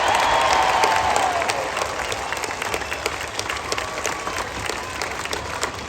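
Crowd applause at a tree felling competition in Sydney: sustained clapping from a large outdoor audience that tapers off slightly, with a faint voice over it early on.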